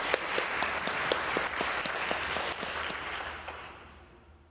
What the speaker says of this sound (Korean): 우리 아버님들 위해서 박수 한번 치겠습니다.